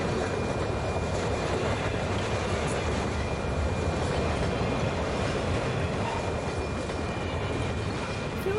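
Train rumbling steadily in a Doom map from a video game, a continuous loud rolling rail noise with clickety-clack texture holding evenly throughout, no speech.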